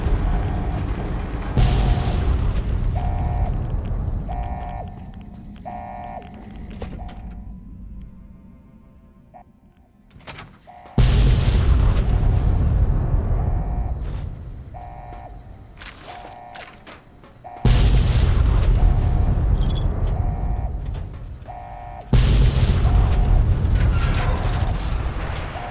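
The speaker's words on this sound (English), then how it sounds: "The explosion effects during this inclinator ride just annoy the crap out of me." Explosion effects echo during an inclinator ride in Fallout: New Vegas, Lonesome Road: loud booming bursts with mechanical rattling arrive in several heavy waves, each fading away before the next deep blast hits.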